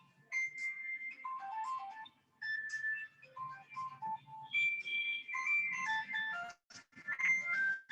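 A mobile phone ringtone plays a bright electronic melody of quick repeating notes in a physics lecture, fairly faint and continuing throughout with no talk over it.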